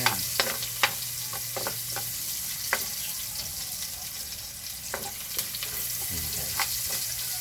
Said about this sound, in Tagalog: napakabango ng sibuyas kapag iniisa siya